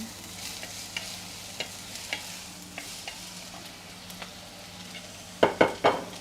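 Onions frying in a pan with a quiet steady sizzle and occasional soft stirring taps, then a few sharp clattering knocks near the end.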